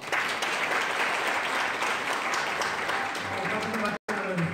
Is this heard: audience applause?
yes